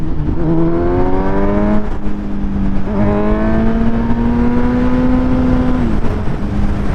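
A Kawasaki Z900 motorcycle engine pulls hard in fifth gear, a loud, close, steady drone rising in pitch, dipping briefly at a couple of points, then climbing again without any talk.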